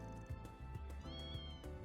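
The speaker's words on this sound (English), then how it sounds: "That is in fact a cat." A cat meows in the video game Trails Through Daybreak, a few short, tonal calls repeated over a steady bed of game music.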